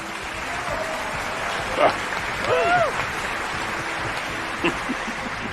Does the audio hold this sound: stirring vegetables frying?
no